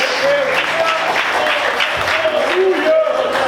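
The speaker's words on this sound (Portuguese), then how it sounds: "Aplauda o Senhor mais forte." Church congregation applauding the Lord during a Portuguese-language worship service, loud sustained clapping from a packed room with voices and cheering mixed in over it.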